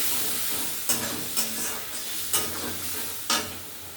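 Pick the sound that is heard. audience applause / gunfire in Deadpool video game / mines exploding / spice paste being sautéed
spice paste being sautéed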